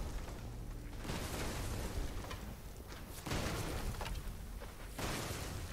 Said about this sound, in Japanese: 花火大会。